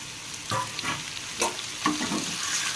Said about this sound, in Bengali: দিয়ে ভালো করে বেগুন আর কুমড়োটাকে ভালো করে ভেজে নেব